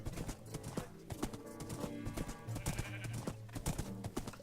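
A horse's hooves clip-clop in a video game, a quick, steady rhythm of close hoofbeats continuing throughout at moderate loudness.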